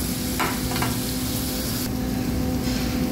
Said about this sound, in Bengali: রোস্ট করা মশলা কিছুটা পরিমাণ ঢেলে দিলাম। এগেন আমি সতে করছি।